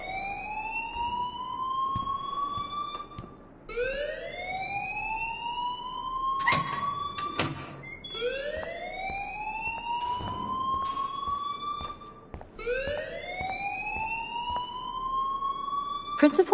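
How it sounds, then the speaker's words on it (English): A wailing alarm rings inside a school in the video game Life Is Strange, rising and falling in repeated long sweeps with a few sharp clicks between them, steady and loud throughout. "please turn off that alarm since that's your job"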